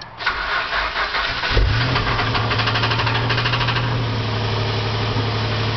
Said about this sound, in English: Wore out the bearings, give it a nice little rod knock.